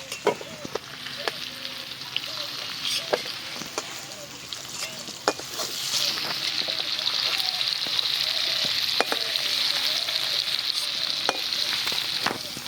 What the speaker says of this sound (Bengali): কুমড়োটা ভালো করে ভেজে নিয়েছি, এবার তুলে নিচ্ছি কুমড়োটা।